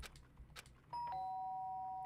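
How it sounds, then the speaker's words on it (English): Doorbell in the Danganronpa Trigger Happy Havoc game, a single bright two-tone ding-dong chime ringing out and sustaining clearly after a few soft taps. "Ding dong."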